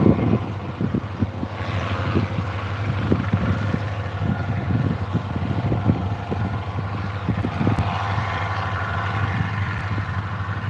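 A helicopter runs at Moorabbin Airport, a steady low engine and rotor drone holding throughout with gusty wind buffeting the microphone, fairly close and loud, no talking.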